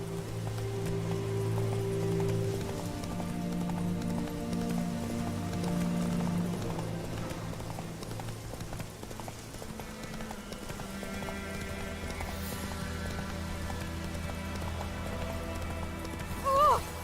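Roach, a horse in The Witcher 3 game, gallops with steady clip-clop hooves over low game music and ambience; the hoofbeats fade partway through and a brief whinny-like sound comes near the end.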